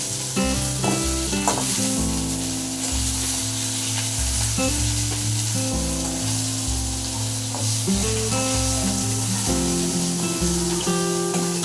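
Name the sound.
fish frying in a pan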